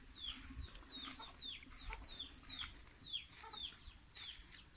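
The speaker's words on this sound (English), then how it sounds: "Okay, let me show you the chicks." Chicks and chickens in a backyard garden coop give repeated high, rising peeps in a quick, irregular series over faint background clucking and low ambient noise, fairly quiet overall.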